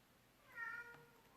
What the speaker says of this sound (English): Oh, hello, cat.